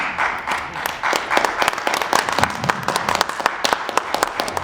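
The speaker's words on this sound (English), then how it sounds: "Can we have a round of applause for Frank?" A book-launch audience at a Literary Barnet event claps for author Frank Bolaji Irawo, a close, lively burst of many hands clapping that carries on for several seconds.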